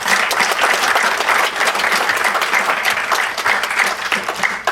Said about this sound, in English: We all give the panelists a round of applause.